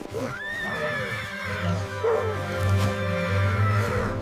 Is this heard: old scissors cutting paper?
no